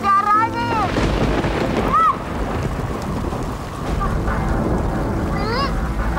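Steady heavy rain with rolling thunder fills an animated children's series scene, loud and continuous, with a brief high squeaky tone mixed in.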